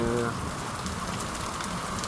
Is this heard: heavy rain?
yes